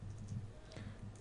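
Keyboard typing as a currency conversion (10 BGN to USD) is entered into Google search, soft quiet key clicks over a low steady hum, no voices.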